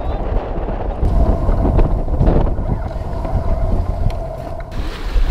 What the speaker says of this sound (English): Wind's blowing about 22 knots.